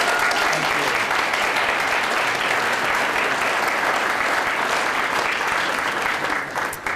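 Audience at a district council awards ceremony breaking into sustained, dense applause that holds steady for several seconds before tapering off near the end.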